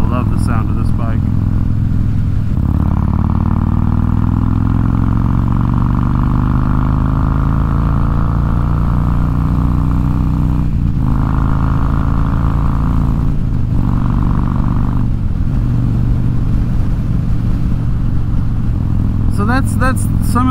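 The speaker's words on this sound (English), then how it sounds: "I love the sound of this bike." A Harley-Davidson Road King motorcycle engine idles loud and close with a deep, steady rumble, then revs, rising and falling in pitch, with the throttle blipped again toward the end and someone talking over it.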